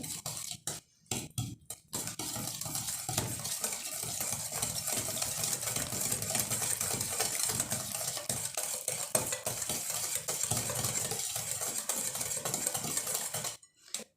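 Powdered sugar whisked into egg for chocolate chip cookie dough, a steady scraping, stirring rustle close by that runs continuously for most of the stretch, with no voices.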